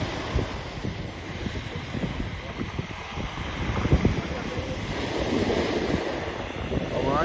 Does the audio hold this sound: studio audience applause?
no